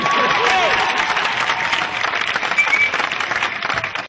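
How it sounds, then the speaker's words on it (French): An audience at a comedy show in Guinea breaks into loud, sustained applause and cheering for a stand-up comedian, a dense wash of clapping that stays full for about four seconds before cutting off, with crowd voices mixed in. "veuillez faire une vive ovation à Keba Moumini"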